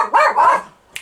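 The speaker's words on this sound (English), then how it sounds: "There goes my dogs." Two quick, loud barks from a dog nearby, followed by a short sharp tick and then silence.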